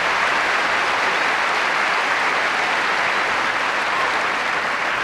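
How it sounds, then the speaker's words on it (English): A packed Wimbledon Centre Court crowd applauds at a 2005 Federer–Ferrero fourth-round match, a steady, dense wash of clapping that holds loud and even throughout with no voices rising above it. "Just listen to the reaction from the crowd."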